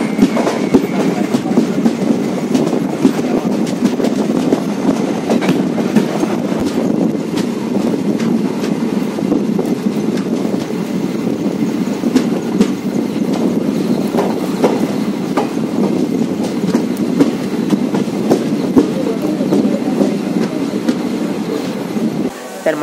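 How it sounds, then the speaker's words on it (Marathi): A Ganpati special passenger train rolls into Savarda railway station in Konkan at night, a loud continuous rumble of wheels on rails with clickety-clack and occasional squeals, steady throughout. "तर मंडळी ट्रेन आपली आलेली आहे सावर्डा रेल्वे स्टेशनला"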